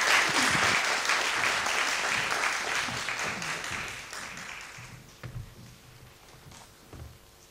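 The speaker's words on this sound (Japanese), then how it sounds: "それでは青木先生を皆様拍手でお迎えください。" An audience at the Purple Ribbon Caravan 2011 event in Tokyo claps to welcome Dr. Aoki, a gastrointestinal surgery professor at Tokyo Medical University; dense applause fades out over about five seconds, leaving a quiet room with a few soft knocks.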